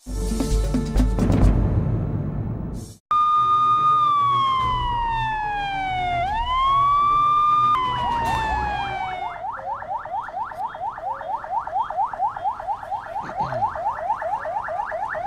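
Police vehicle sirens sound in a Ghana Police Service exercise against siren abuse, a loud wailing tone rising and falling that then switches to a rapid repeating yelp, continuous and close with no talk.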